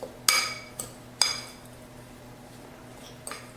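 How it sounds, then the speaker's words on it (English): Fork clinking against a bowl while mixing crumble topping for a sweet potato casserole: a few sharp metallic taps, close and fairly quiet, separated by brief pauses. "the fork actually helps mix it in better than a whisk"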